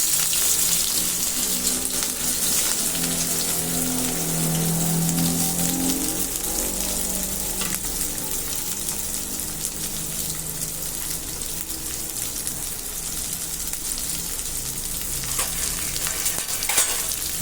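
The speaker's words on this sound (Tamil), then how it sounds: "வெங்காயத்தை வந்து நம்ம நல்லா வதக்கணும்" Steady loud sizzling of small onions frying in hot oil, a continuous crackling hiss with occasional stirring, no voices.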